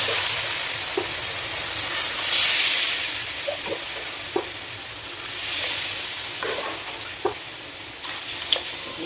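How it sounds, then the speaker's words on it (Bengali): Dal curry cooking in a pot on the stove, with a constant steamy hiss and sizzle and scattered small pops and bubbles, loud and close. "কিছুক্ষণের জন্য সিদ্ধ হতে দেবো"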